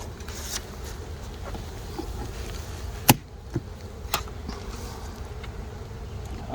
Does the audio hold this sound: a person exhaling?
no